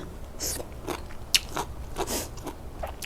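Crispy Thai pork belly being bitten and chewed up close, with a handful of sharp crunchy bites and crackles spread across a few seconds, no talking.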